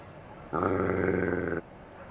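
A dog in a quarantine setting lets out a single deep, rumbling growl lasting about a second, loud and close, with faint room hush before and after.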